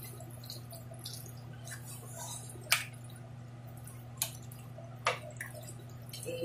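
Tuna mushroom spaghetti sauce is stirred in a pan, producing sparse, quiet wet squelches and a few sharper clicks over a low steady hum, with no one speaking.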